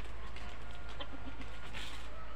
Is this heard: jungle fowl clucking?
yes